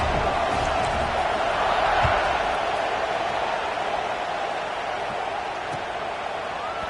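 A large crowd in a college football stadium just before kickoff in the College Football 25 video game, a steady dense roar of cheering that holds evenly throughout with no voices standing out.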